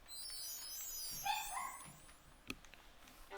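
A dog gives a few quick high barks and yips at moderate distance, faint against a quiet background, followed by a sharp knock.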